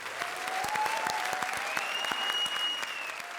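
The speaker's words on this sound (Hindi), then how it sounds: "जोरदार तालियां हो जाएं।" A studio audience at a comedy show applauds warmly, even continuous clapping filling the room, with a few whistles sliding over the top.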